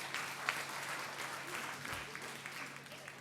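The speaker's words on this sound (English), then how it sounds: "Please, a round of applause to the two teams." An audience applauds the two teams after a debate, a steady, fairly soft wash of many hands clapping from across the room that holds evenly for a few seconds.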